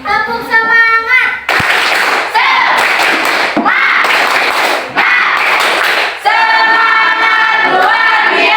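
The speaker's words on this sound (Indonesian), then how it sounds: "Tepuk semangat!" A group performs the 'tepuk semangat' rhythmic spirit clap before a lesson, a dense run of loud claps in bursts, with voices chanting at the start and end.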